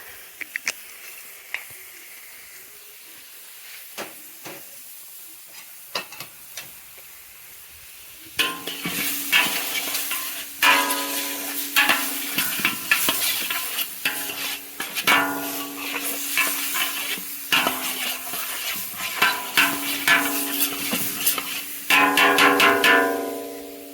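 Onions hiss and sizzle loudly in hot oil in a pan, cooking for a West Asian chicken dish, with a sudden burst of frying and scraping stirring after a quiet start.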